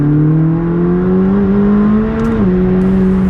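A McLaren 600LT accelerating to overtake on the road, steady loud engine drone rising slightly in pitch, then a brief dip as it shifts, heard from inside the car with no talking.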